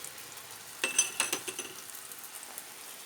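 Soft sizzling of lokma dough balls frying in hot oil, with a few faint clinks and stirring sounds near the start, no talking.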